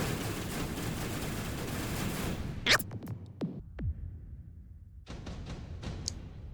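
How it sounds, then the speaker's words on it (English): Arclight units in the mech strategy game Mechabellum fire from afar amid a dense rumble of battle, followed by a few sharp cracks and zaps, then quieter scattered shots over a low background. "But I do have Arclight shooting from afar, and that is going to help me win this round."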